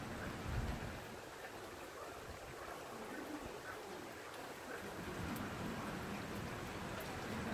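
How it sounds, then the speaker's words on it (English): Rain falls outside on a windy, foggy day, a steady broad wash of drops heard through an open door, fairly faint and continuous with a brief low thump near the start. "If you can't see, it's raining."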